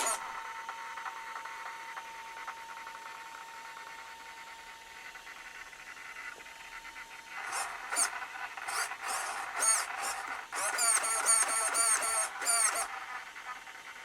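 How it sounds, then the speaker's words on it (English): A failing servo motor inside an unmanned drilling rig (UDR) whirs with a faint steady hum at first, then breaks into a run of harsh, stuttering squeals and grinding bursts in the second half. "Here is what a servo on its last legs sounds like."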